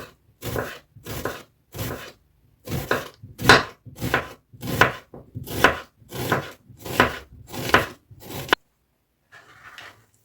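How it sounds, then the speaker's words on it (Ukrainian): A knife slices an onion into thin half rings on a board, about a dozen crisp, evenly spaced cuts close by, then stops. "Зараз беру цибулю, ріжу на напополам і потім нарізаю на пів кільця."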